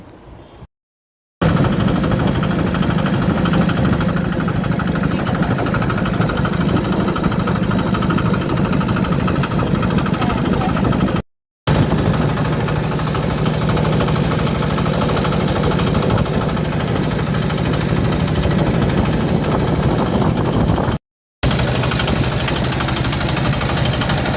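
A trawler boat's engine chugging steadily at close range, a loud continuous droning rumble with mechanical vibration, briefly cut twice before resuming.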